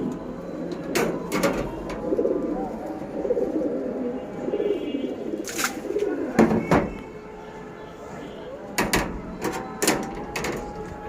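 Pigeons kept by a keeper during a rainy monsoon-season day give soft intermittent cooing and bird calls, with sharp clattering knocks between them and no talk.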